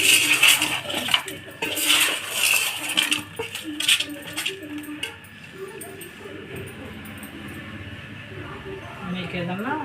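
A spoon stirs a tamarind-leaf curry of small fish in a metal pot, giving clinking and scraping metallic strokes while a person talks over them, then a softer bubbling simmer.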